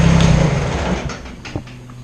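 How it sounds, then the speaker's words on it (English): A Kubota BX compact tractor engine, with a backhoe attachment being removed, runs with a steady low idle drone that fades and winds down as it shuts off, ending with a brief clunk. "At this point, you can shut the tractor off."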